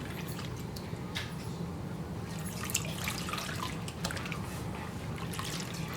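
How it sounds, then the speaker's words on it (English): Raw hair extensions dipped and swished in a basin of water, giving a steady close trickle and gentle sloshing with soft drips throughout. "what I'm going to do is actually dip the hair"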